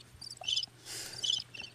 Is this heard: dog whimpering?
no